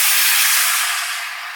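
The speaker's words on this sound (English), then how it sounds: "that sizzling sound lets us know it's hot" A loud, bright sizzling hiss as water hits a hot pan while cooking steak bursts out and slowly fades a little over a second and a half.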